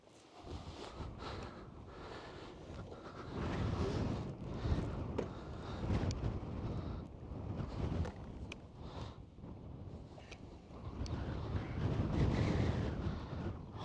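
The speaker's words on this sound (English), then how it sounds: "it's very windy" Strong wind buffeting a microphone while riding a Ducati Multistrada V4 Rally motorcycle on a road in Halland, a loud, rumbling, gusting roar that swells and dips throughout without speech.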